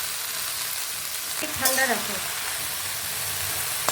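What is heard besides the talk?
chopped jute leaves frying in a pan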